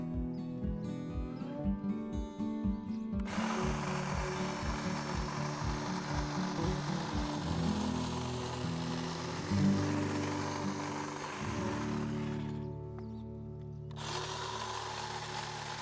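A powered hedge trimmer buzzes through a Hidcote lavender hedge in a garden, a close, loud motor drone with chattering blade pulses at the start, running steadily before stopping briefly and restarting.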